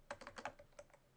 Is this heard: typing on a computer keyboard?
yes